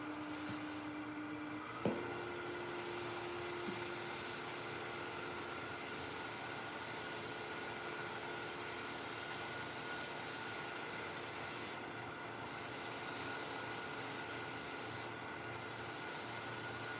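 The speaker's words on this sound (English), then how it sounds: "We're gonna rotate it around, keep sanding till we get it where we want it." Steady, close sanding of a rotating wooden sphere on a lathe, a continuous abrasive rub over a constant machine hum, with no speech.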